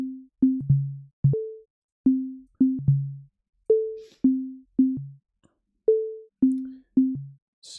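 Pure sine tones from a Bitwig Grid synthesizer play a plucky melody of short notes at a few different pitches, each decaying quickly, clean and close with brief silences between.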